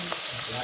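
Spices temper in hot oil in a pan for a South Indian sambar gravy, giving a brief, steady crackling sizzle heard on its own.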